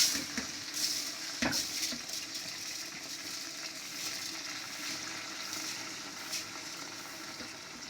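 Beresta onions fry in oil for a large home biryani meant for ten people, giving a steady close sizzle with soft stirring scrapes and a few brief clanks.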